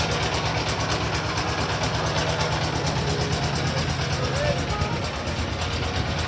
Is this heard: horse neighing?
no